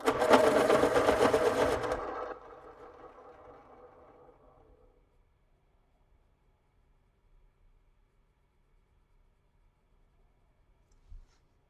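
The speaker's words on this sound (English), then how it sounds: "Sharpen my white." A white colored pencil is ground in a sharpener: a loud, close whirring burst for about two seconds that fades away into near silence, followed by a small tap near the end.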